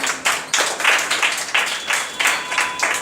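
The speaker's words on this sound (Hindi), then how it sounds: "जोरदार ताली।" A group of students gives loud, close clapping for a classmate in a classroom, arriving in rhythmic waves of sharp hand claps with no talking.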